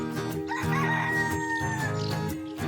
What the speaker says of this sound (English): It's a rooster. I hear a rooster.